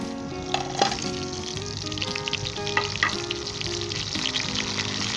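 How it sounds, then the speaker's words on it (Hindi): Chicken sizzles and fries in a hot pan for a tomato chicken dish, a steady crackle broken by a few stirring clinks and scrapes, with no one speaking. "10 सेकंड के लिए हम फ्राई करेंगे। साथ ही हम चिकन शामिल कर देंगे।"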